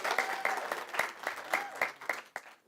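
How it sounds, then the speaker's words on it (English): An audience at a school award ceremony claps steadily with scattered cheers, a dense, fairly loud wash of applause rising and falling in pulses before fading. "London has a cheering section."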